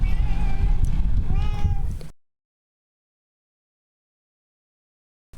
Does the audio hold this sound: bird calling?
no